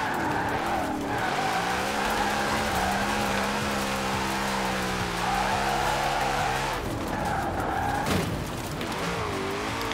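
A car drifts in Forza Horizon 4 with a Formula Drift car that has a four-speed gearbox. Tires squeal loudly and continuously over a revving engine, and the pitch sweeps up and down as the slides change.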